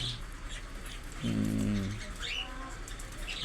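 Pigeons and other small birds at a mini bird farm make a soft, low cooing burst near the middle, while thin chirps and tweets come and go around it at close range.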